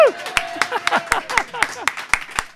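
Sparse applause and a cheer for a man named Darren during a live fireside chat, a handful of sharp, distinct claps spaced through the moment while people talk and call out over them.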